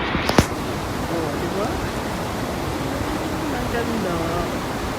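Broad steady rush of the Saigawa River flowing through Kanazawa, heard from a bridge or riverside path, continuous and fairly loud, with a brief sharp click near the start and no talk.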